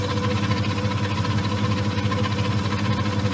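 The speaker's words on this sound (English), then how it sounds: "When I start the motor at top speed," A Myford ML10 lathe motor runs steadily at top speed, a constant close mechanical hum with a faint rhythmic whir and no pauses.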